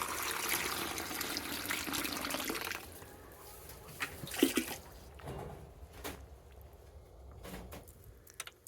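Water gushes and splashes as it is poured into containers for farm animals in a chicken and livestock setting, first as a steady stream, then fading to scattered trickles and drips at low volume.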